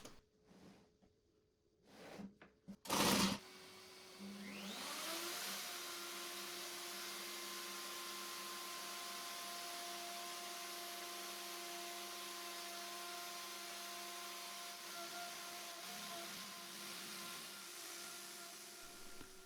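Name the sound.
router with radius cutting jig cutting through desktop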